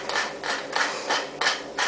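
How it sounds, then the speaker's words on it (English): An oversized manual pepper grinder cracking peppercorns in a home kitchen makes a close, dry, gritty rasp in regular strokes, about five or six twists in two seconds, with no talk over it. "And then my handy dandy pepper grinder, which is far too big for anyone,"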